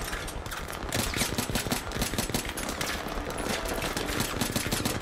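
Enemy gunfire in a Battlefield 3 co-op mission, rapid automatic bursts rattling in a dense continuous stream with sharp cracks, close and loud throughout, with no talking.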